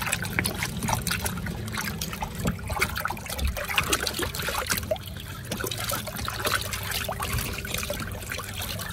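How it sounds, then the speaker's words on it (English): Water trickles and drips steadily as a soaking alligator hide, in the middle of being tanned, is squeezed out, with a close, continuous wet splashing and dribbling and no talk. "The hide absorbs things, so you can squeeze it and get some of it out of there too."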